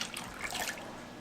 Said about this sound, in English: Eggs, got a little water.